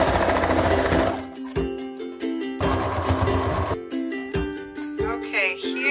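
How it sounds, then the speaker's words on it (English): A sewing machine stitches a small tab onto a Dollar Tree shower lanyard strap, running in loud, close, steady mechanical bursts with brief pauses between runs and a light metallic jingle. "you can sew just a little stitch right here, like an inch apart"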